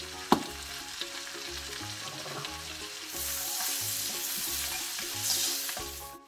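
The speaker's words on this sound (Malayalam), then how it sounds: "അതിനെ കൂടെ നമുക്ക് അതിനകത്തിട്ടൊന്ന് വഴറ്റിയെടുക്കാം." Chopped garlic and three sliced green chillies sauté in a pan for palak paneer, a continuous sizzle and crackle with a sharp clink at the start and occasional stirring scrapes, close and clear without speech.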